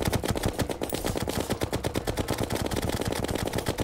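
Rapid automatic gunfire from a weapon in Terraria's master mode, a dense, steady stream of loud shots with heavy game music or effects beneath, continuing without pause.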